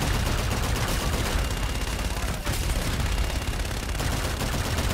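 An artillery strike in the Call of Duty Infinite Warfare campaign: a dense, continuous roar of impacts and gunfire, loud and unbroken throughout.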